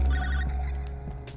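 Telephone ringing in the video game High On Life, a single close electronic ring tone that fades into quieter repeating chirps over about a second.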